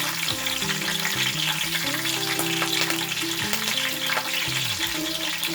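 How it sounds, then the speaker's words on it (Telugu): Curry leaves and green chillies sizzle loudly and continuously in hot oil for crab curry, a dense unbroken crackle with a faint melodic tone running underneath. "ఇప్పుడు ఆయిల్ హీట్ ఎక్కింది, కొంచెం కరివేపాకు వేసుకుందాం."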